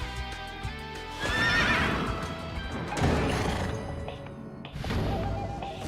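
A horse boss from the Sengoku Basara: Samurai Heroes video game, the Death Carriage, neighs loudly with galloping hooves clattering under dense game music and effects, the whinny rising strongly near the start and another surge of action following.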